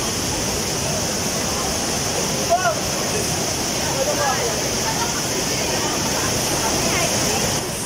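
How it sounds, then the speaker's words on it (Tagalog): Taytay Falls waterfall pours in a steady, broadband rush throughout, dense and continuous with no pauses, while faint voices occasionally talk over the roar. "So this is Taytay Falls."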